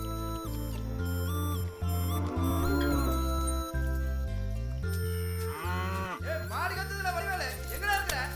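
Cattle moo while being watered, giving deep, drawn-out calls with a rich, layered tone that bend in pitch and carry loudly and almost without pause from start to finish.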